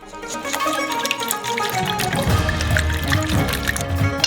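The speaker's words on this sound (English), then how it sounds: "Add 2 teaspoons of sugar, a teaspoon of salt, and some oil. Mix well," Soy sauce, sugar, salt and oil being stirred together in a bowl, with wet liquid sloshing and clinks of utensil against the bowl, close and fairly loud over faint background music.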